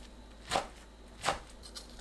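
A knife cuts blanched chard into 2.5 cm pieces. Two distinct, fairly quiet chops land about three quarters of a second apart, followed by a fainter third touch, over a quiet background.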